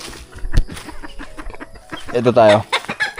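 Chickens cluck in a small backyard coop on a farm, short close calls scattered among people talking, with one louder drawn-out squawk midway.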